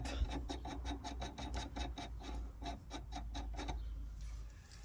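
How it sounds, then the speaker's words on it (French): A bolt is turned loose with a ratchet on an Opel Corsa B during an axial tie-rod joint replacement, a rapid run of even clicking strokes up close that stops partway, leaving a low steady hum. "Donc on dévisse le boulon."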